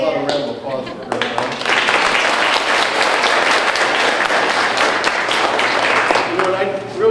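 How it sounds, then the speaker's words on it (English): Loud round of applause from students in a school assembly for a police officer, brief voices at the start, then vigorous sustained clapping filling the room to the end. "How about a round of applause for her?"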